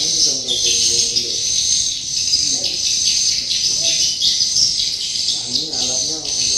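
Dense, continuous high chirping of many birds at a swiftlet nesting site, loud and close, with faint low voices underneath.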